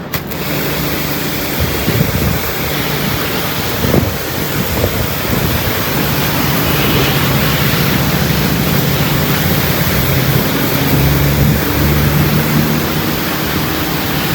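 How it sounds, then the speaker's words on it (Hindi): Water jet from a nozzle spraying onto a car at a car wash, a steady loud broadband hiss and splatter running continuously throughout, with no voices. "यहाँ ऑलरेडी गाड़ी वॉशिंग पे लगी हुई है, तो मैं बाहर से पानी मार देता हूँ।"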